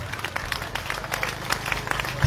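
Church congregation applauding and acclaiming the Lord with quick, rhythmic clapping from many hands, joined by low singing voices, rising into a louder burst at the end.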